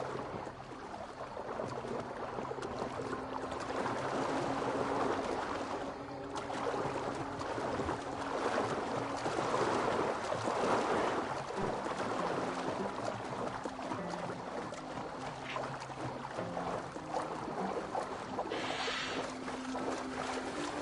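A boat moves across water in Assassin's Creed Valhalla, giving a continuous wash of water and wind noise with a low droning hum underneath, steady and fairly loud throughout, with no talking.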